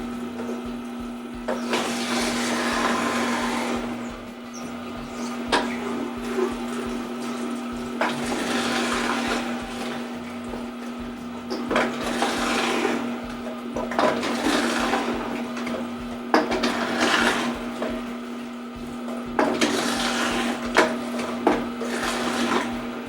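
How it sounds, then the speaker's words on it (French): Green Star Elite GSE-5000 juicer extracting juice from vegetables, a steady mechanical hum with a constant tone and recurring bursts of grinding and crushing, fairly loud and close with no talk. "L'appareil qui aussi va chercher beaucoup de jus dans les légumes verts."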